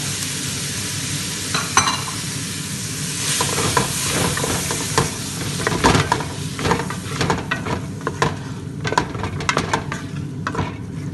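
Tomatoes sizzling and frying in a pan for chicken curry while being stirred, a steady loud hiss with repeated scraping and clinking of the spoon against the pan throughout.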